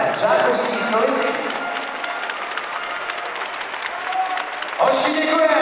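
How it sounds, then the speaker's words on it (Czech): An indoor audience claps and cheers for youth league winners at a 2013 trophy ceremony, with the applause rising and falling under a voice speaking over a microphone. "Pojďme ještě jednou zatleskat."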